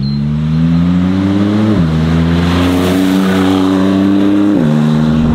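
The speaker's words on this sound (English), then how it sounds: "Twin turbocharged 3-litre 90-degree V6 engine." Maserati MC20 with its twin-turbo 3-litre 90-degree V6 and Novitec exhaust, a loud close engine drone that climbs steadily in pitch, with a couple of quick dips where it shifts gear.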